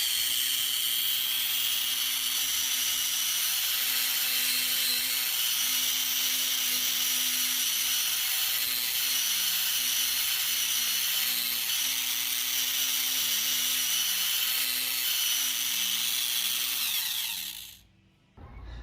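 Dremel rotary tool fitted with a right angle attachment and sanding drum spinning at 15,000 RPM, a steady high-pitched whine with grinding hiss held for about seventeen seconds before winding down.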